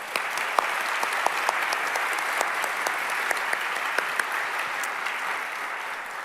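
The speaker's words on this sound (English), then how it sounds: "So you may applaud all the finalists." Steady applause from an audience at an award presentation ceremony for the finalists, a dense even patter of many hands clapping throughout with a few sharper individual claps standing out.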